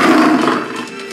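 A tiger roars inside a hotel, a loud close growling roar that swells at the start and trails off into a rough, rumbling tail, heard alone without talk.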